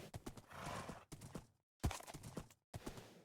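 Horse hooves clip-clopping in a multiplayer video game, a few quick bursts of trotting steps with brief gaps of silence between them, fairly close.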